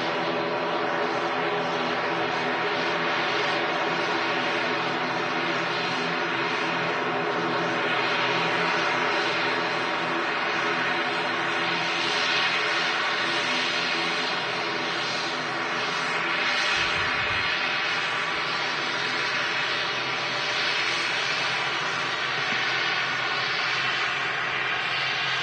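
An ATR 72 turboprop airliner at Manchester Airport gives a loud, steady engine drone with a broad roar that holds throughout at close range.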